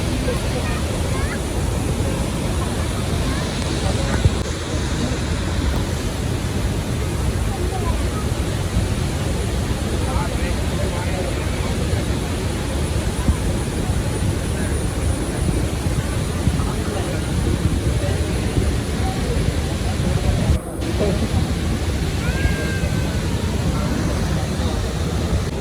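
Athirappilly waterfall in strong flow sends up a loud, dense, unbroken roar of rushing water that fills the whole stretch.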